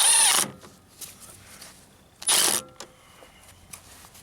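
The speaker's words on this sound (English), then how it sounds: "Okay, so we're gonna bolt this down." A power tool bolts down a part on a motorhome generator, sounding as two short, loud mechanical bursts separated by quieter clatter and handling noise.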